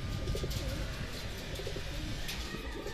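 Racing pigeons arrive at a loft after a 106 km training flight from San Pablo, Laguna, with soft cooing and flutters close by over a constant outdoor background.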